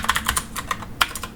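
Keyboard typing on a computer while entering an email address, a quick run of close, crisp key clacks in an uneven rhythm with one sharper stroke near the end.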